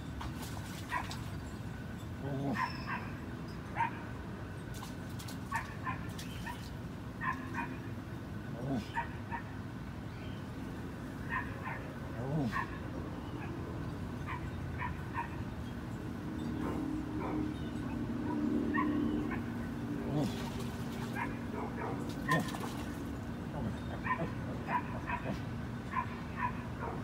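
A person mimics a dog with barks, yips and whimpers to lure an eight-foot alligator in a busy neighborhood, the imitation running intermittently over steady outdoor background noise, with speech mixed in.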